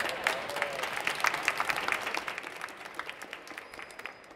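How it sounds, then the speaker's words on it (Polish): Audience applause at a get-together on the Polish Cardiac Society stand at the ESC Congress in Rome, steady clapping that fades gradually over several seconds, indoors and moderately close. "Bardzo proszę o brawa."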